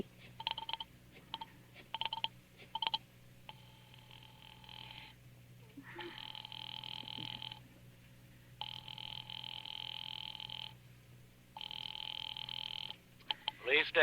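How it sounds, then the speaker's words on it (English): Telephone ringing in an old radio drama, a police department line being rung: repeated rings in bursts separated by pauses, fairly clear against a quiet background with short clicks at the start and end. "Ringing the police department."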